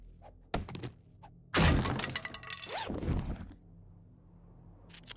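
A container gets smashed open in 7 Days to Die with a few sharp thunks and whacks, then a loud breaking crash with rattling, clattering debris, followed by quieter scattered knocks.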